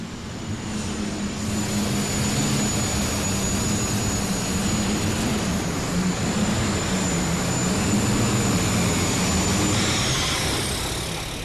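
A pulling tractor's engine roars at the 1997 National Farm Machinery Show, a loud, sustained, whining blast of noise that holds steady for several seconds before easing slightly, with no voices over it.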